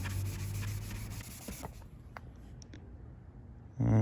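A tool scratches and rubs against a plastic engine part on a seized KA24DE engine, giving short scraping strokes up close that fade into quiet ticks before a brief louder burst at the end.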